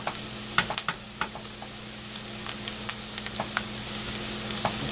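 Onions frying in a pan on a home stove, a close, continuous crackling sizzle with scattered sharp pops over a low steady hum, no voices.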